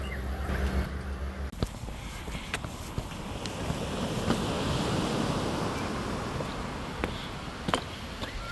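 Surf and wind on a sandy beach near the Littlehampton Fort on England's south coast, a steady broad wash of waves with gusty wind buffeting the microphone and a few louder thumps, no voices.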